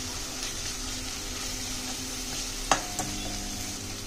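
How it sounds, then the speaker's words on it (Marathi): Ginger, garlic and chili paste fries with onions in a pan, giving a steady sizzle under continuous stirring, with one or two sharp scrapes of the spoon near the end. "चांगलं ह्याच्यामध्ये व्यवस्थित परतून घ्यायचं कांद्यामध्ये।"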